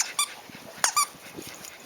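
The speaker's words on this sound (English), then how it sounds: "She obviously loves squeaky toys." A dog's squeaky toy squeaks sharply several times in quick bursts, close and loud, as Coco, a little Yorkie mix, plays with it.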